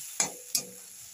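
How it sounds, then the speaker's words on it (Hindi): Ground tomato puree frying for a Bihari-style egg curry, heard as two quick spoon strokes or splutters, each with a short sizzling tail, close and brief with no talk. "टमाटर को पीस लिए हैं। अब इसको भूनेंगे।"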